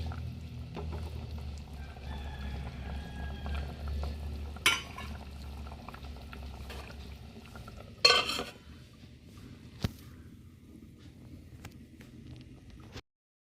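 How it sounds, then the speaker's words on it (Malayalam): Sardine fish curry bubbling in a pot on the stove, a low, steady simmer with a few clinks of a spoon or lid over the top, heard close and without talk. "മീനിട്ട് തിളച്ചിട്ടുണ്ട് കേട്ടോ ഒരു അഞ്ച് മിനിറ്റ് ഇങ്ങനെ ഇരിക്കട്ടെ ഈ സിമ്മിലാക്കി"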